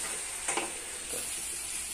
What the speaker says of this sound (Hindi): अब इसे अच्छे से फ्राई करेंगे।